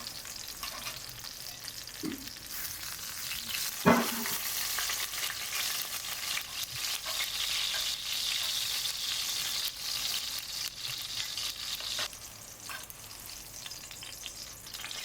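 Eggplants frying in hot oil in a pot give a steady, close sizzle and crackle throughout, with a brief clatter partway through and no talk.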